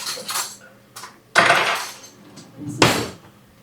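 A table knife works under the membrane of raw BBQ pork ribs, with several loud, close scraping and clattering strokes against a hard surface and short quiet gaps between them.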